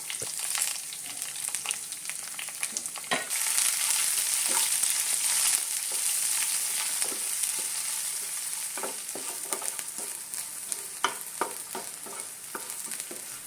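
Five thinly sliced shallots fry in a pan of hot oil for a traditional Kerala curry, giving a steady loud sizzle broken by repeated scraping clicks as they are stirred. No voices.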